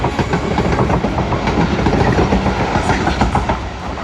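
Two South Western Railway class 444 units pass at Vauxhall on the southwest main line, a loud, close rumble with steady clickety-clack of wheels over rail joints, continuous throughout with no talk.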